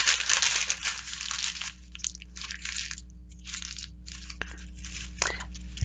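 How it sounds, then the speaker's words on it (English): Sheet of paper crumpled by hand during a meditation exercise, a dense run of crinkling and crunching bursts, close and fairly loud, broken by short pauses and trailing off into softer rustles. "take out your piece of paper and crumple it up."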